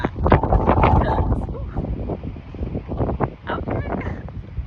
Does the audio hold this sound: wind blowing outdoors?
yes